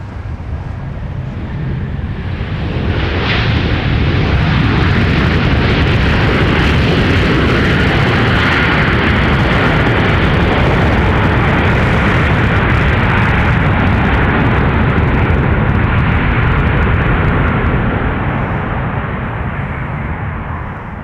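Jet roar from an airliner landing at MSP airport, a loud, continuous rumble that swells in the first few seconds and holds steady for about twenty seconds.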